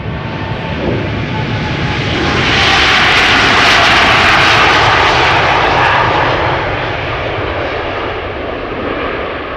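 KLM jet airliner taking off at Amsterdam Schiphol, a loud sustained engine roar that swells to a peak midway and slowly fades, with no voices over it.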